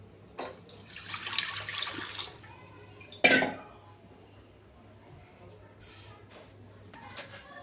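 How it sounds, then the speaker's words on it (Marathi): Toor and moong dal lentils are rinsed clean in water, with splashing, sloshing bursts and one sharp, louder slosh midway; a voice talks faintly in the background. "तर हे पहा आपण तुरीची आणि मुगाची डाळ घेतलेली आहे, ती आता आपण स्वच्छ धुवून घेणार आहोत।"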